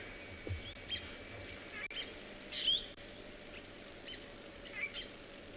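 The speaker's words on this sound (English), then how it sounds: "Isn't it nice to just sit here and listen to the birds?" Birds sing on a morning safari in South Africa, with scattered short chirps and calls drifting over a steady background hiss, fairly faint and at a distance.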